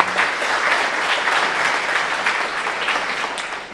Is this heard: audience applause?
yes